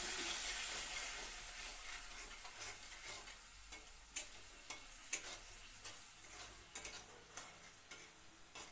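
Taro greens sizzle and crackle in a pan after a splash of water goes in, a steady hiss broken by sharp spattering pops and clicks of stirring, heard close with no talking.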